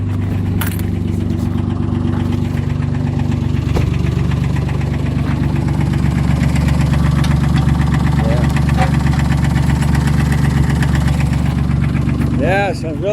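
A 2007 Dodge Nitro engine with an oil pressure problem idles close by with a steady low rumble, and a faint knock runs through the sound.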